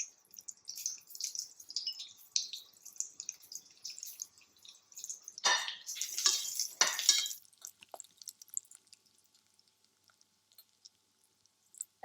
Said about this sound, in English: Put in the garlic. And the ginger first.